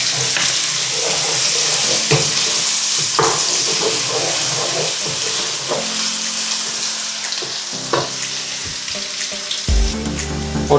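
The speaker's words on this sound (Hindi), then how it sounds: "और इसको थोड़ा सा हम भून लेते हैं।" Garlic paste frying for mash daal, a loud continuous sizzle in the pan with intermittent spoon scrapes and knocks, close up, ending in a brief clatter, with no one talking.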